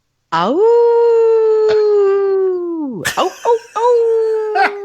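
A person's voice imitates a wolf howl, close and loud: one long sustained howl that slides down at the end, followed by a shorter rising howl broken by yelps.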